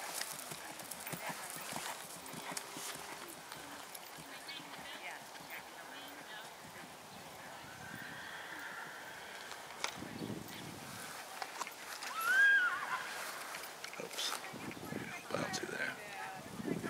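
Horse cantering in a warm-up arena at a medium canter, soft hoofbeats faint and steady under a trainer's coaching voice, with quiet ambient noise throughout.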